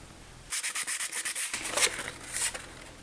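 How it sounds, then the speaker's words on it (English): Vinyl plank flooring on stairs is sanded by hand in about eight quick rhythmic rubbing strokes, close and clear, followed by a couple of looser scuffs. "I'm going to get all this stuff sanded up, and then we'll stick these on."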